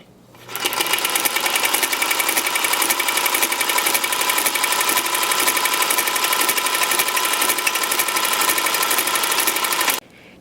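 Sewing machine fitted with a ruffler attachment stitching pleats, a fast steady mechanical whirring and clatter running evenly for about nine seconds before stopping abruptly, close and loud, no voices.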